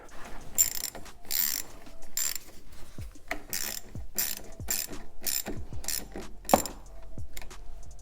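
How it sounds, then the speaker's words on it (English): A ratchet wrench tightens an 8mm bolt on the intake of a BMW F90 M5 during an aftermarket intake install, giving repeated bursts of rapid close clicking with short pauses between strokes and no talking. "Go ahead and tighten 8mm."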